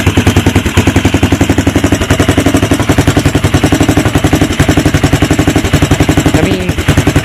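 A 1984 Honda TRX200 ATV engine idles just after a cold start with no air filter fitted, a loud, steady, rapid putter of even firing pulses that runs unbroken, dipping slightly near the end.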